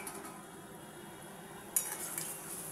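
Lentil fritters dropped into a simmering curry spiced with garam masala, giving a soft steady bubbling with light stirring and clinks of utensils against the pot, then a brighter sizzle and splash partway through.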